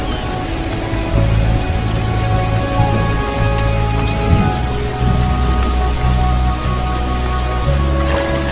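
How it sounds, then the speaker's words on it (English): Heavy seasonal rain pours down over a scorched landscape, a dense steady patter of drops on the ground with a low rumble beneath, loud and continuous. "Five millimeters of rain falls every day for weeks on end."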